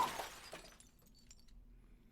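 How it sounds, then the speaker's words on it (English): Glass bottle shattering against a man's head in a visual novel: a sharp crash with a bright burst of breaking glass, then scattered tinkling fragments fading into quiet. "With a tremendous crashing sound, the bottle shattered against my father's head."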